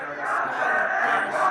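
A basketball crowd in a high school gym roars after a two-handed tomahawk dunk, a loud sustained wall of cheering and yelling voices swelling across the short moment.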